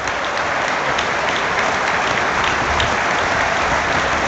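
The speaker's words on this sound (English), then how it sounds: "Sunderland fans joining in the applause as well. It echoes around the ground" Sustained applause from a large stadium crowd at an FA Cup football match, Oxford United versus Sunderland, a dense steady roar of clapping that fills the whole stretch without letting up.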